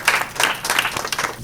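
An audience applauds at an International Women's Day event. The clapping is brief and moderately loud, coming in uneven bursts over about a second and a half.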